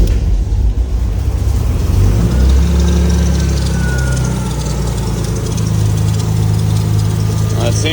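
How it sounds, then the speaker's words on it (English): A BMW E36 sedan's engine idles steadily and close by, a continuous low rumble with a faint whine, running alone throughout without interruption. "seems like it's idling fine,"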